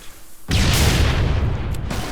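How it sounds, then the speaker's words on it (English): A Bombarder weapon's explosive grenades from a Halo 3 Lego Harry Potter mod go off in a sudden loud boom that rolls into a sustained rumbling blast, near and alone without talk. "explosive grenades which aren't as powerful as your regular grenade, but you know they look cool"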